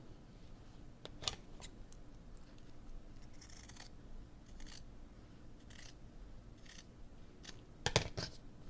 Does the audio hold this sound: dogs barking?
no